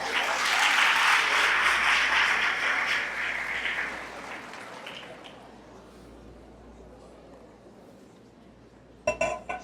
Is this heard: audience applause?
yes